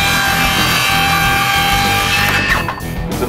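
A saw rips lengthwise through a 3/4-inch-thick wooden board in one loud, continuous rasping cut, close by, the whine dropping away near the end with no talk over it.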